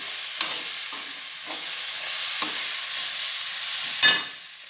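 Garlic and ginger sizzle in hot oil for a mushroom curry, a close steady frying hiss punctuated by several sharp spatula scrapes and clinks against the pan.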